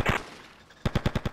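Video game gunfire in Grand Theft Auto Vice City: a single shot followed, after a short pause, by a rapid burst of five sharp automatic shots, loud and close.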